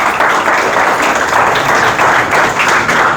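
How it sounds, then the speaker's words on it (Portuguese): Loud, close applause from a class during a religious lesson, welcoming a fellow teacher with a busy, steady burst of clapping and no talk. "Palmas para o André."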